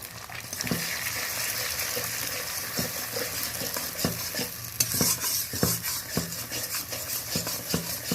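Two beaten eggs mixed with salt are stirred in a kadai (wok), giving a steady sizzle of frying with repeated scraping and clinking strokes of the spatula against the pan, close by and without talk.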